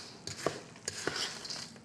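A spoon stirring sauce with pickles in a cup, giving soft, quick scraping and clinking taps at close range, faint and irregular, with no talking.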